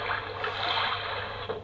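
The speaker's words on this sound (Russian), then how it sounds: "именно льется, уже журчит вода." A Graco baby soother plays a recorded babbling stream, a steady gurgling wash of water with soft splashes, continuous and moderately quiet over a low electrical hum.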